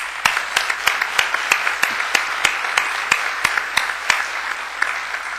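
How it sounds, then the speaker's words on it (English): Steady applause from an audience during opening remarks, a dense wash of clapping with sharper individual claps standing out, sustained throughout with no talking. "Again, a big round of applause"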